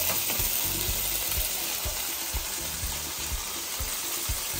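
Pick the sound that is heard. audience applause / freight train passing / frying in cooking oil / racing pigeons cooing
frying in cooking oil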